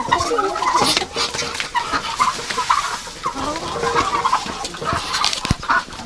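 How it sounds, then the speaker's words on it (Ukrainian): Male turkeys and other poultry in a winter coop, a busy mix of clucks, gobbling calls and squawks from several birds nearby, rising and falling throughout. "Тут в мене індики самці сидять."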